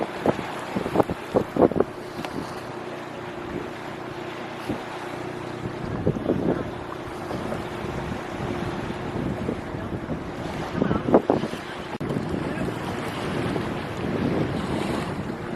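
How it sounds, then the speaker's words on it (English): Gusty wind buffets the microphone on Lake Keowee amid whitecaps, with rumbling bursts and knocks over a steady roar of wind and lapping waves; no one speaks. "A little windy out here today."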